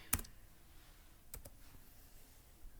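A few computer keyboard keystrokes while entering a number and hitting enter: one sharp click up front, then a quick pair of clicks about a second later, faint and close in a quiet room.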